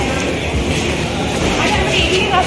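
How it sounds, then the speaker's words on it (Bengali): At a railway station, an arriving train produces a low, continuous rumble that fills the scene, with people talking over it. "চলে আসছে ট্রেন।"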